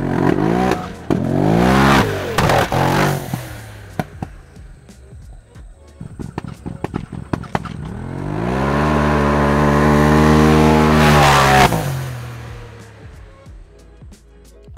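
A Polaris RZR XP Turbo side-by-side revs hard close by. The engine rises and stumbles through uneven bursts and sputtering breaks from fuel starvation, then settles into a long, steadier high-revving pull.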